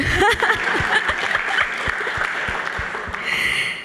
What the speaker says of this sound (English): Okay, you can applaud.